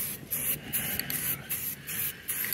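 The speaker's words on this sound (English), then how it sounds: "you're going to have an ugly looking, obviously spray painted radio" A spray paint can hisses onto a 1946 Farnsworth radio in short, close, loud bursts, about six sprays in quick rhythmic succession.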